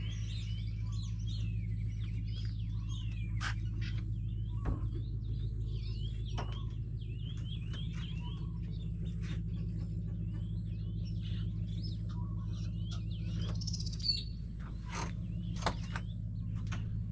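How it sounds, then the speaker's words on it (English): Birds call and chirp at a lagoon bird hide beside lily pads, scattered short tweets and trills over a steady low rumble, fairly distant and faint throughout. "There's lots of bird life around here."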